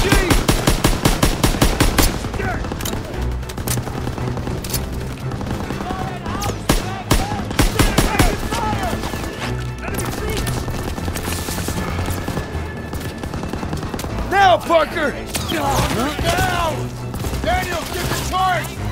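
Sustained automatic gunfire in the Call of Duty WWII Hill 493 mission, with dense bursts of shots and explosions over a battle din, while soldiers shout orders in the background.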